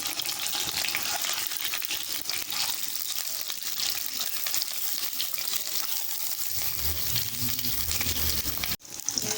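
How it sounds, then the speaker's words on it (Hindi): Eggs frying in a pan for an anday cholay dish, giving a steady, dense sizzle and crackle up close, with a brief low bubbling burst near the end. "एक एक अंडा डाल रही हूँ मैं, हल्का हल्का सा हम फ्राई करेंगे"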